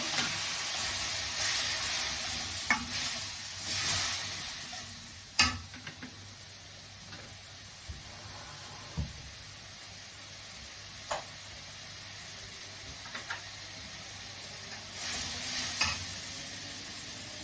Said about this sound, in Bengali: মশলাটা ভাজা হোক